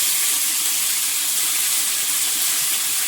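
Shrimp drop into hot oil in a pan with dried red chili, chopped onion and nigella seeds, giving a loud, steady, close sizzling hiss with no break and no speech.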